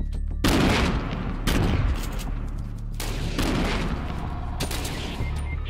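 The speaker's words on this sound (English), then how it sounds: "Oh, gunshots, gunshots." Gunfire in the video game Fortnite, loud repeated shots and bursts with booming impacts clustered over several seconds, close and dominant, with no talking during the exchange.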